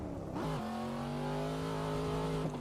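A Cadillac CT5-V engine in a racing game on a home-built simulator hums at a steady pitch after a brief rev, smooth and sustained like a sports car cruising.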